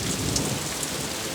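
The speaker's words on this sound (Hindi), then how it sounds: "अचानक बारिश होने लगी।" Sudden rain pours down in an animated fairy-tale setting, a steady, dense hiss of drops on the ground with a low rumbling undertone throughout.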